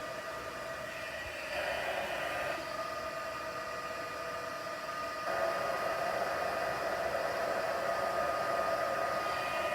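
A heat tool melts embossing powder on a stamped card, giving a steady close blowing whoosh with a faint motor whine that keeps on through the whole stretch and grows louder partway as the tool comes nearer.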